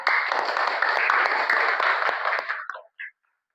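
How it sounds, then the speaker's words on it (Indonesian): A room full of people claps steadily for a few seconds for a group of students, then the applause fades out, followed by a brief short sound. "Tepuk tangan untuk kelompok A."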